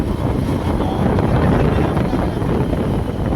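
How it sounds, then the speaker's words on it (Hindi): Steady, loud wind roar buffets the microphone while riding a motorbike at dusk, a continuous low rumbling rush with no talk. "मैं बाइक चला रहा हूँ, अभी बाइक चलाएंगे क्योंकि अंधेरा हो जाएगा"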